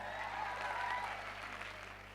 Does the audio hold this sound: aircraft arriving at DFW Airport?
no